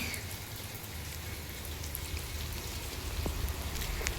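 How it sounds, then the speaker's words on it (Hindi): Heavy rain pouring down suddenly over a home garden with a hibiscus plant, a steady, even hiss of falling drops with a few louder patters, continuous and without any talk. "तो भाई झमाझम बारिश शुरू हो गई है एकदम से"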